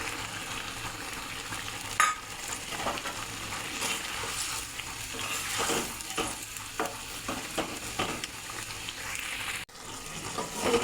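Paneer, capsicum and onion are stir-fried with garam masala paste, giving a steady sizzle with scraping stirs and clinks of a spoon in the pan, close and continuous.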